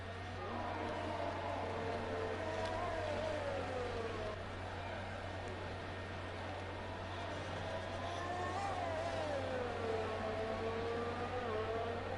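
Race cars in a PlayStation Formula 4 league game at the Spanish Grand Prix drive back after the race, giving a steady engine drone with rising and falling whine under a constant hum, no talking.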